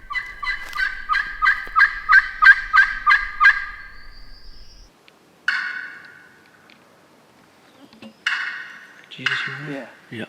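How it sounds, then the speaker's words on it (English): Wild turkeys gobble in Kentucky woods during spring hunting season: a rapid, rattling series of loud gobbles opens the sequence, followed after a pause by further bursts of gobbling and clucking from birds at varying distances. "I've heard a couple more birds gobbling while we've been sitting here"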